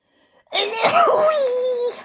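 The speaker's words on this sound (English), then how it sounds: "I'm going to sneeze." A single close, loud sneeze-like vocal burst that trails into a drawn-out moaning tone, following a brief quiet moment.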